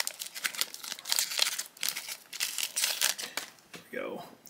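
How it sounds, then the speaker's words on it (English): Trading card booster pack wrapper for Sorcery Contested Realm being torn open, giving close crinkling and tearing foil sounds in uneven bursts, with a brief voice near the end. "This pack is not opening up very well."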